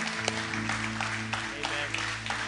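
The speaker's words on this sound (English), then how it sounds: "Can we clap and celebrate those who prayed that prayer?" Applause from a church congregation after a prayer, brief and moderate, with scattered claps over sustained music tones underneath.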